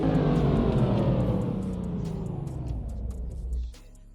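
Modded BMW S55 engine in a game, heard from the interior as a low rumbling drone that winds down in pitch from higher revs toward idle, loud and close, then drops off sharply near the end.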